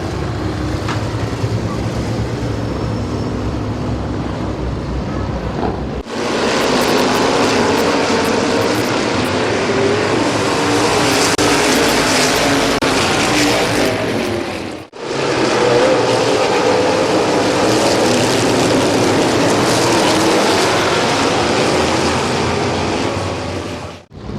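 Race cars run at Midvale Speedway, their engines roaring loud and continuous as the pack passes, with a short drop in the noise midway through before the roar builds again. No one speaks.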